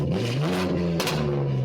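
A BMW G80 M3 fitted with a Cen-Cal catback exhaust and catless downpipes revs up close and loud, its engine note rising and holding steady with a brief crackle partway through.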